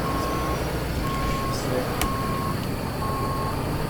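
Reversing beeps from a truck backing up in American Truck Simulator, four evenly spaced electronic beeps repeating steadily over a constant engine rumble and road noise, with a voice speaking faintly underneath.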